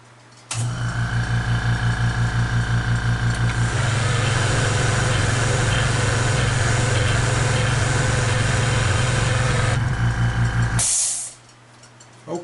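A burnishing wheel runs in a metalworking shop, starting abruptly with a loud, steady motor whine and hum that holds for about ten seconds, then spins down and stops.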